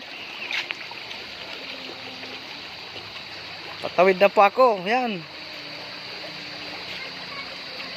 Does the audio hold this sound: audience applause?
no